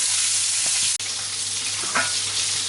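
Sausages sizzle loudly and steadily in hot fat while cooking for mini toad in the holes, a constant close frying hiss broken by one brief dip and a soft clink, with no talking.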